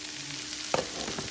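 Vegan chicken strips with Creole seasoning cook in a pan, giving a steady quiet sizzle with a brief louder scrape or stir partway through.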